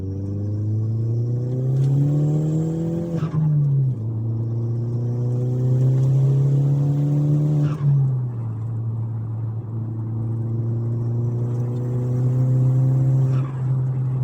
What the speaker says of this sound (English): We'll just do a quick second, third gear blast here.